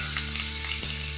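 Shredded chicken filling fries in a very hot pan with a constant bright sizzle and one brief scrape of stirring. There is no talking.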